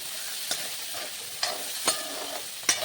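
Tur (pigeon pea) grains roasting and being stirred in a pan, with a soft continuous hiss broken by a few sharp scrapes and pops at irregular moments.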